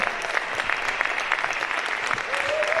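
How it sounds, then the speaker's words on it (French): Steady applause from an audience at a speech contest final, dense clapping filling the space with an even, sustained rhythm, fairly loud throughout. "Venez prendre les applaudissements."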